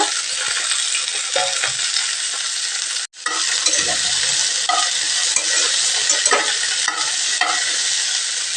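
Chopped okra sautéing over low heat in a pan with a pinch of asafoetida, a loud continuous sizzle with repeated spatula scrapes and clicks and one brief break partway through, no voices.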